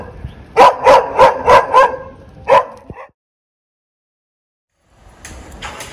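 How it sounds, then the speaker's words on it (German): Dogs bark at tourists in rural Morocco near a hot spring: a quick series of five loud barks, then one more after a pause, followed by silence and a faint noisy rustle at the end. "da sind die Hunde"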